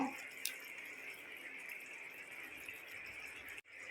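Coconut water pours steadily into a mixer jar as a soft, continuous trickle lasting a few seconds before cutting off near the end.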